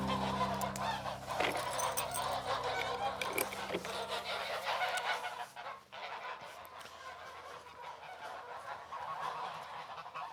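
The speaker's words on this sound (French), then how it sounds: "j'élève des oies normandes depuis une douzaine d'années" Normandy geese in an orchard flock in the Pays de Caux honk loudly and repeatedly, a noisy overlapping chorus that thins out in the second half, with faint background sounds.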